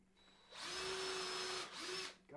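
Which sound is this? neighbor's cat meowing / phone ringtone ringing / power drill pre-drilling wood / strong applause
power drill pre-drilling wood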